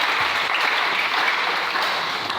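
A church congregation applauding and cheering the Lord, a dense, continuous burst of clapping that stays loud and even throughout, with no speech over it.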